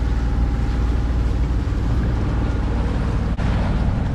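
Sailboat running under its engine on a flat, windless sea, giving a steady low engine drone with water rush, loud and continuous. One brief dip comes near the end.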